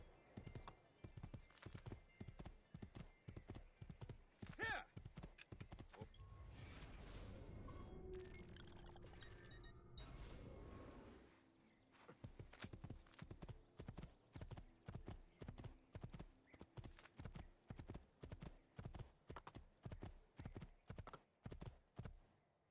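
Horse hooves clip-clop in the video game Assassin's Creed II, a steady brisk rhythm of hoof strikes, interrupted midway by a whinny and a rushing, crashing burst before the trotting resumes.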